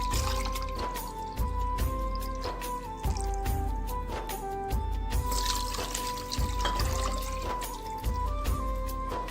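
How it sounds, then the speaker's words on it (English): Water poured into a pan to make sugar syrup for gulab jamun, a continuous liquid pour and trickle heard close up over a steady low background hum, with no talking. "2 cup of water"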